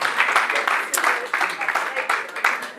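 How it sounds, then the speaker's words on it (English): An audience at a wedding gives a dense round of applause for a volunteer, a continuous wash of clapping with voices mixed in. "Round of applause to Justine"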